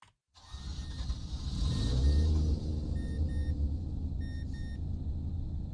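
Mazda RX7 rotary engine cranking and firing up in the Roblox game Greenville, a rising mechanical whir that settles into a steady low idle rumble, with faint clicking tones on top, no talk.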